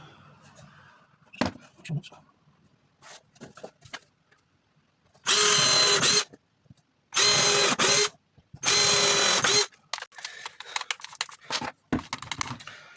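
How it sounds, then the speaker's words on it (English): A power drill bores pilot holes in an enclosure panel for a laser engraver, three loud whirring bursts of about a second each, separated by short pauses and quiet handling clicks. "So I'm just going to drill pilot holes again."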